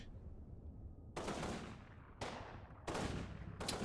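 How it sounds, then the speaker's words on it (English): Infantry in a tree line and a half-track trade gunfire in the WWII strategy game Combat Mission Final Blitzkrieg: four sharp bursts of shots and volleys, each fading into a reverberant tail, against a low rumbling battlefield backdrop. "A lot of my infantry set up in the tree line here is now taking some shots at a half-track. Half-track putting some shots back at them."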